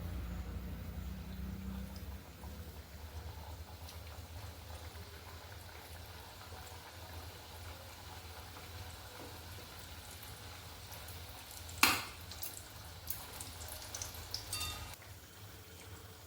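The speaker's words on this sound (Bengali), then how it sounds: "এবার এগুলো তেলে ছাড়ছি।" Coconut biscuits fry in oil with a faint, steady bubbling that is close by but quiet. A brief clatter sounds near the end.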